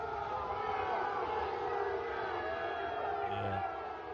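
A large Ole Miss football crowd boos Lane Kiffin over his departure, a loud, sustained roar of mass booing and jeering that fills the whole stretch, with voices blended in the din.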